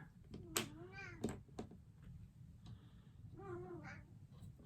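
A cat meows twice close by, drawn-out rising calls with a short chirp between, over a low steady background hum.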